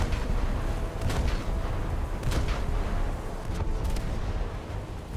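The destroyer JDS Ayanami fires its naval guns in a video game: several heavy booming bursts land a second or so apart over a loud, continuous rumble.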